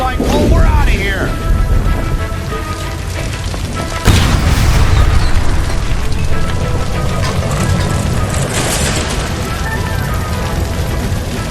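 A gas line blows up in L.A. Noire, a loud explosive boom bursting in around four seconds over a dense, rumbling game soundscape with rain-like crackle and voices talking throughout.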